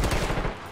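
Gunfire in the SOCOM Confrontation online shooter, heard as a short, loud, dense burst of rapid shots lasting under a second.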